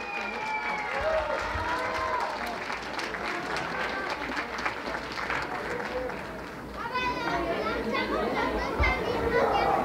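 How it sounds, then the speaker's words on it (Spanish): Guests at a quinceañera celebration clap and cheer amid lively crowd chatter and children's voices, a busy party din that dips briefly and then rises again. "Fuertes los aplausos."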